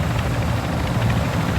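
Helicopter in the video game Call of Duty Warzone 2, a steady, loud rotor and engine drone that holds evenly with no talk over it.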